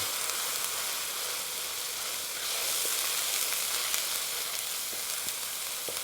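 Curry sizzling and frying steadily in a pan over a moderate flame, a continuous close, bright crackling hiss with small pops, no voices.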